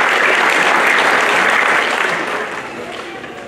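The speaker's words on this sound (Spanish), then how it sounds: "quiero pedir un fuerte aplauso para ellos" Loud, full applause from a crowd at a municipal fair expo, a dense clapping wash that stays strong and then gradually fades toward the end.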